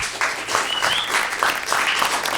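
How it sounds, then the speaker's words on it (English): Audience applause for a speaker named Anna after her talk, a steady wash of many hands clapping at full strength throughout, with a faint whistle-like tone briefly rising through it. "Big round of applause for Anna, please."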